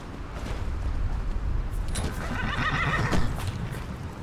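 A horse whinnies in the video game Skyrim over steady background noise, with a soft clopping and rustling texture underneath.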